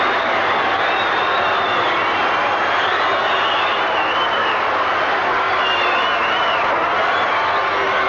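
Stadium crowd at a 1988 rugby league cup night match in Penrith roaring and cheering as the Brisbane Broncos arrive, a broad sustained distant wash of voices and whistles.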